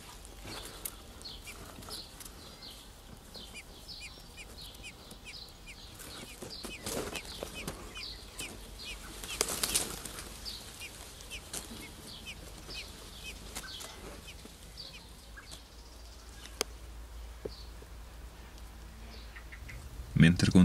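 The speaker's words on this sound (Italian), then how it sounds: "Qui dei merli hanno fatto il loro nido" Blackbirds chirp repeatedly at their nest in a bamboo grove beside a vegetable garden, a steady series of small high calls over a quiet outdoor background, with one brief louder burst of noise partway through.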